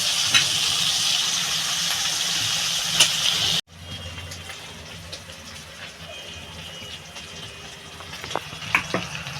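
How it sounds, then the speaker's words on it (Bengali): Prawns fry in a pan with a loud, hissing sizzle that cuts off abruptly, then a quieter bubbling crackle continues with occasional stirring clinks. "আমি এই যে যে চিংড়ি মাছটা ভাজছি"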